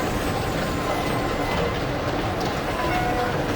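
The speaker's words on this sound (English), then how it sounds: "It's a subway. It's a political movement. It's a subway and a political movement. Sounds like it's still operational, too." An underground subway train runs in the Zork Grand Inquisitor video game, a loud, steady mechanical rumble and clatter that holds without a break the whole time.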